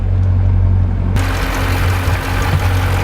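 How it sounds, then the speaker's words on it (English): Stock-exhaust V8 of a Dodge Durango SRT idling, a steady deep low rumble heard up close, constant and moderately loud with a sudden rise in broadband noise partway through and no talk. "And here's the idle of the stock"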